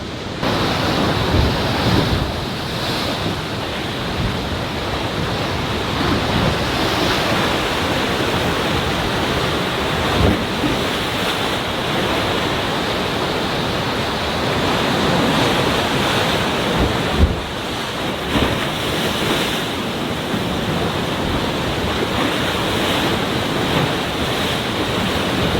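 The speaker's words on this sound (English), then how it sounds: "that's just the waves crashing along the rocks" Ocean waves crash and surge against the rocks at Thor's Well, a loud roaring wash of surf mixed with wind buffeting, swelling and receding in repeated surges throughout.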